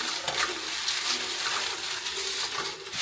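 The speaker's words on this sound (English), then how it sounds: "I want to rinse it" Dried soursop leaves rinsed under running water, a steady splashing wash that stays fairly loud and continuous throughout with no pauses.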